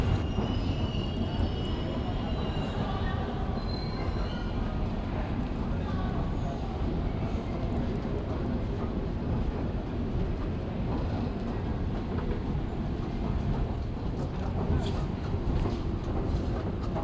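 A steady, loud rumble of a Jaipur metro train running, continuous and droning throughout with no breaks.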